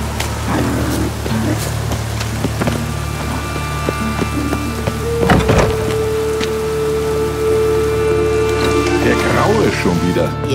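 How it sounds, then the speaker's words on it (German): Steady rain falling in The Witcher 3, a continuous wash of patter on surfaces with occasional wooden knocks and creaks, plus a brief louder thump midway and a sustained tonal sound near the end. "Sieht nach Regen aus."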